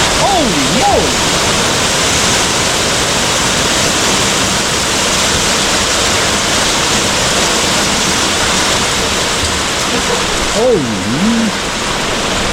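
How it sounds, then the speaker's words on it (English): Heavy hail pounding down outdoors at an off-grid cabin in Vermont, a loud, continuous roaring hiss of impacts with a person exclaiming briefly at the start and end. "It's hailing!"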